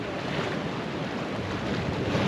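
Sea waves and wind around a boat on the Arabian Sea coast, a continuous close wash of water with wind noise on the microphone and no talking.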